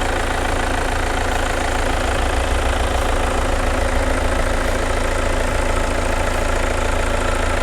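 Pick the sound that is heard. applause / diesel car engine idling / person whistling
diesel car engine idling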